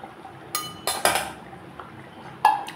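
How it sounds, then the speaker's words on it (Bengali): A metal lid clanks down onto a pot of Bengali fish-roe fritter curry, making a few sharp clinks and rattles over a quiet simmer, fairly close and with no voices. "আবারও 2 মিনিটের মতো ঢেকে দিলাম।"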